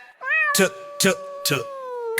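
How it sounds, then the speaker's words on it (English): A cat meows in a children's alphabet song, its repeated calls landing between sung words over a steady musical tone, with singing throughout. "C is for cat, cat."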